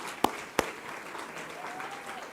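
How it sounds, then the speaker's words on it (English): Awards-ceremony audience applauding at an evening event, a steady wash of clapping with two sharp, loud claps near the start before it settles into a moderate, even patter. "can we give all our awardees a big round of applause"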